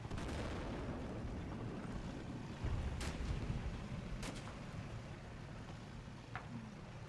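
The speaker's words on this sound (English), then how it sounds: "Mortars landing." Mortar shells land and explode in a World War II battle in Normandy, with dull booms rolling over a constant low rumble of combat, a couple of sharper cracks standing out amid the continuous din.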